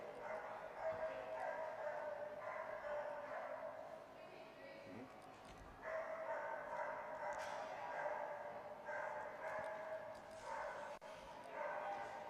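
Dogs bark and yip at a North America Diving Dogs dock diving event, with a Labrador Retriever among them, the sound steady across the whole stretch while a commentator talks over it on a public address.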